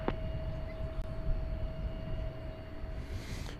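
An airliner takes off at night from runway 18 left at Dallas Fort Worth Airport, heard from outside the perimeter fence as a steady, distant roar that holds evenly throughout.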